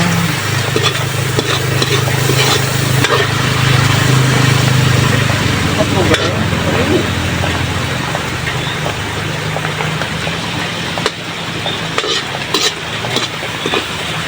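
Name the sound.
vegetables being sautéed in a pan for soup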